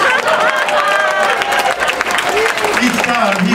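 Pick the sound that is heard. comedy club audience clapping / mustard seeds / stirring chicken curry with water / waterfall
comedy club audience clapping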